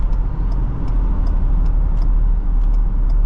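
Ford Police Interceptor Utility state police SUV with a 400 hp EcoBoost engine pulling hard under acceleration, a loud, continuous low engine roar with faint ticking on top and no voices.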